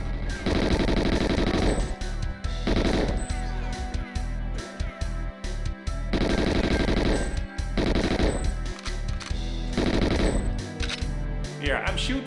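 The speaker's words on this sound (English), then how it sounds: "I'm shooting those boxes, but the guy just survives over there" Rapid automatic gunfire from the GoldenEye video game as a player shoots at boxes, loud bursts of fire separated by short pauses and scattered single shots throughout.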